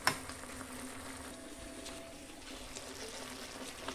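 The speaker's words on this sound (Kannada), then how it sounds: "ನೋಡಿ ಹೇಗೆ ಕುದೀತಾ ಇದೆ" Chicken sukka simmers in a pot with a soft, faint bubbling and occasional light pops. There is a sharp clink at the very start and no talking.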